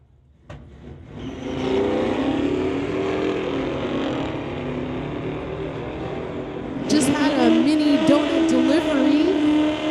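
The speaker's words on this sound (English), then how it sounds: "Don Mancinelli in the 1967 Ford Fairlane in the Lordco lane going against the Camaro" A 1967 Ford Fairlane drag racing against a Camaro at a street-legal drag event: engines idle, then rev up into a loud, sustained roar that swells further near the end, with a voice talking over it.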